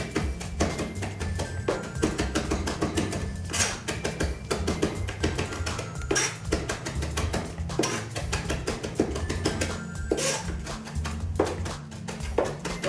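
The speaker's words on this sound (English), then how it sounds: "I just want to chop it very, very fine" A knife chops parsley very finely on a cutting board in a fast, steady stream of sharp taps that keeps going throughout.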